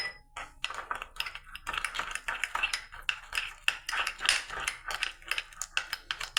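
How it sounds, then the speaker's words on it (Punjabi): A spoon stirs herbal soap ingredients mixed with rose water, giving quick clinking and scraping taps against a bowl in an irregular rhythm, close and moderately quiet, with no talk. "ਇਹਨਾਂ ਸਾਰੀਆਂ ਚੀਜ਼ਾਂ ਨੂੰ ਆਪਾਂ ਵਿੱਚ ਗੁਲਾਬ ਜਲ ਨਾਲ ਮਿਕਸ ਕਰ ਦੇਣਾ ਸਾਰੀਆਂ ਚੀਜ਼ਾਂ ਨੂੰ ਆਪਾਂ ਹਿਲਾ ਦੇਣਾ"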